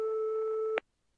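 A telephone busy tone follows a wrong-number call in the PC-98 game Policenauts: one steady, loud electronic beep holds for under a second, then cuts off with a click into silence.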